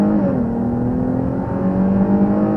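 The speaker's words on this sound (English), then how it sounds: "I'm going to mat it to the floor from the stop real quick" A 2023 Dodge Challenger V6 pulling hard from a standstill, its engine note droning loud and close with a steadily climbing pitch, no voices over it.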